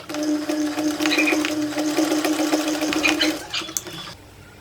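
Sewing machine running a straight side seam on pants, a close, fast steady hum of stitching that stops near the end, followed by faint handling clicks.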